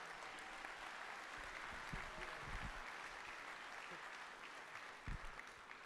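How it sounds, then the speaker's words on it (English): Audience applause at a miniature painting competition awards ceremony, a steady wash of clapping from a large crowd heard from a distance, lasting throughout with a brief louder swell near the end. "Round of applause,"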